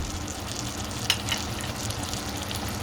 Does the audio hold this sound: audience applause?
no